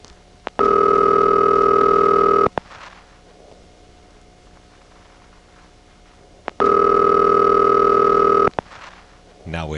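Two long buzzing ringing-signal bursts from a 1977 GEdney 9 panel telephone exchange in Brooklyn, each about two seconds, separated by a pause with faint line noise, loud and close.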